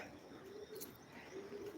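Pigeons cooing in soft, low repeated calls during a pigeon-flying session in rainy weather, with steady outdoor background noise and no talk.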